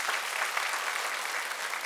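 A church congregation at an early-morning prayer service claps in an even, continuous wash of applause, moderately distant and soft, with no voices standing out.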